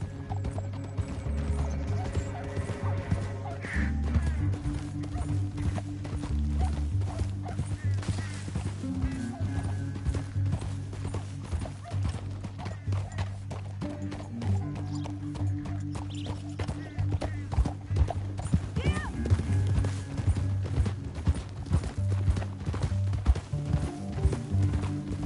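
Horse hooves galloping in Red Dead Redemption 2, a continuous rhythmic clip-clop under a game music score and ambient layers, with voices speaking at points.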